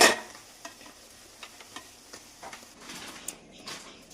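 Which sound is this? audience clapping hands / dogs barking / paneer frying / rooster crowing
paneer frying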